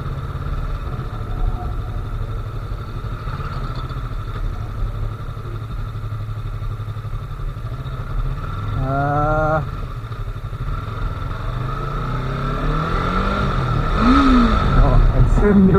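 A Yamaha R3 motorcycle with a parallel twin engine being ridden, its steady engine drone rising into revving sweeps with gear changes, building louder toward the end with a brief clattering rev near the close.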